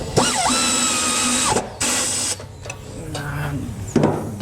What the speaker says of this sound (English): Now we're gonna be able to tighten tight the 15 millimeter bolt.